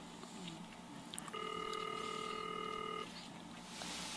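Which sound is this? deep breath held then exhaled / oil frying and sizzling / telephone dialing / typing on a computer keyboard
telephone dialing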